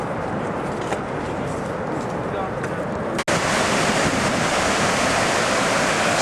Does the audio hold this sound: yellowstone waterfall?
yes